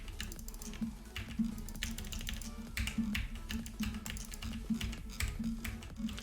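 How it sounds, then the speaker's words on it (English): Rapid, dense keyboard typing and mouse clicking during a Diablo 3 Frenzy Barbarian session, continuous close-up taps and clicks at a steady fast rhythm throughout, with a low background game tone underneath. "It's a lot of clicking that you have to do if you want to play like this"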